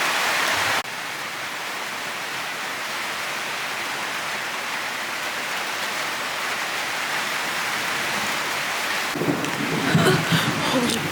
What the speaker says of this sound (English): there was like a big like lightning strike right here and the thunder was instant